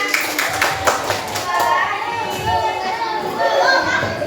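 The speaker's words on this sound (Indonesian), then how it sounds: "Iya, kasih tepuk tangan." A classroom of children gives a round of applause, scattered hand claps rising amid lively kids' chatter and voices.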